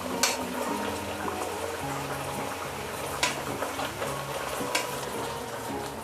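A whole chicken fries in oil in a pot while hot oil is ladled over it, producing a continuous bubbling sizzle broken by a few sharp splashes and clinks.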